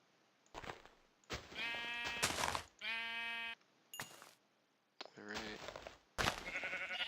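Several distinct sheep bleats in Minecraft, clear and close, separated by short pauses and mixed with brief game sounds and someone talking.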